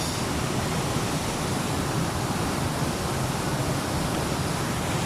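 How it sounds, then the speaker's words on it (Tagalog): A mountain waterfall roars in a steady, dense wash of falling water, loud and close, with no break and no voices. "Waterfalls."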